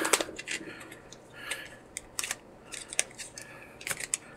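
A graphics card box being torn open: quick, crisp bursts of ripping cardboard and packaging, close up and irregular, with short pauses between tears.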